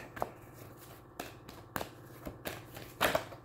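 Cards being drawn and shuffled during a tarot-style card reading, a run of soft close slaps and flicks, sparse at first and then a denser riffle near the end.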